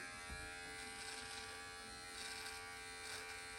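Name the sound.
electric precision beard trimmer cutting beard hair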